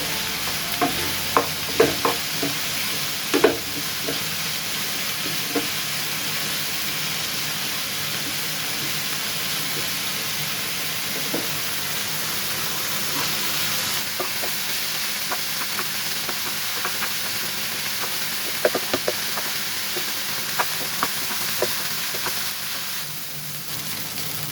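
Green chillies and other ingredients sauté in a pan until golden for a bread uttapam, a steady close sizzle running throughout with scattered clicks and scrapes of stirring.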